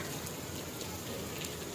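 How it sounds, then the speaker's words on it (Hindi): Heavy monsoon rain pouring down outside a house, a dense, even hiss of drops on surfaces, faint and continuous, with no voices. "ये देखें कितनी तेज़ हो रही है बारिश"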